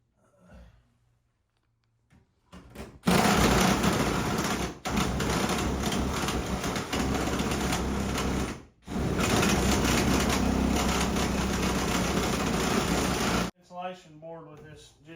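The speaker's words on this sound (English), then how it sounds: "Now we're going to get a jigsaw and cut that out." Jigsaw cutting through a board on a metal roof to make an opening for a wood stove pipe, a loud, close, continuous rasping buzz with a brief pause partway through, stopping near the end.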